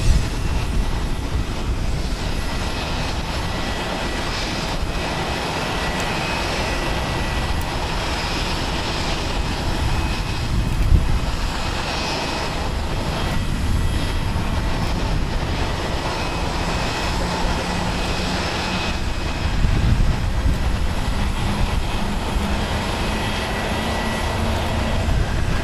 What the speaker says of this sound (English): This is Skymark Airlines Flight 100 coming in from Kobe. It is a 1 hour and 6 minute flight aboard a Boeing 737-800, 10 years old.